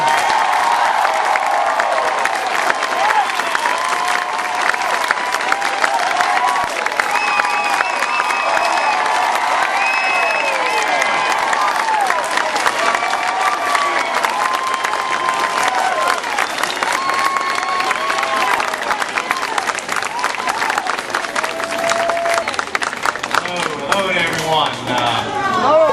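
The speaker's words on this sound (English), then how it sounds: "let's give a big round of applause for Senator John Edwards" An audience at a political campaign event in Prestonsburg, Kentucky applauds and cheers loudly for a senator, sustained clapping and shouts filling the room for the whole stretch, easing slightly near the end.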